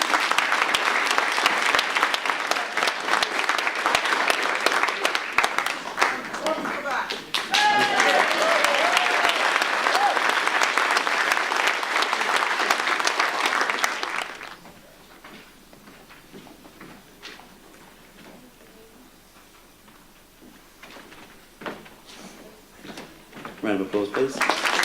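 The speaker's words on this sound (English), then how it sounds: "Round of applause." Loud, dense applause from a school audience at a certificate of achievement awards ceremony rolls for about fourteen seconds, then drops to a quiet room with scattered claps, shuffling and faint voices before clapping picks up again at the end.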